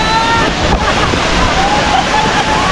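Steady rushing water from a waterfall at a beach resort near Metro Manila, loud and continuous throughout with a broad roar, with voices faintly mixed in.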